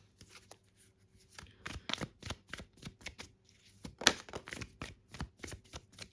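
Tarot cards are shuffled and drawn alone, a quiet run of crisp riffling slaps and flicks with a sharper snap near the middle.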